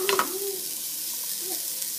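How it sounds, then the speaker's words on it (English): Chopped onion sautés in a pan with a soft, steady sizzle, and a brief clatter of stirring comes right at the start. "My 1 cup of chopped onion, and I'm just gonna saute that"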